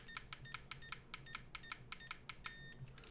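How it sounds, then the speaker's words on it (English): Rapid electronic beeps from FPV goggles scanning for a signal from an Eachine TX03 camera, in an irregular series, short and high-pitched, repeating steadily over a faint background hiss. "I'm just looking in the goggles, as you can hear by the beeps."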